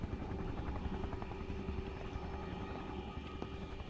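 A helicopter in SCP Containment Breach, a continuous loud rotor drone with rhythmic blade chop and a steady engine hum, heard alone.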